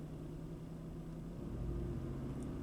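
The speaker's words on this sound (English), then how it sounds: "we apply a little bit of throttle to it" A Pontiac Aztek engine with a rich-condition fault idles under a little throttle, a low, steady, fairly quiet rumble that swells slightly partway through.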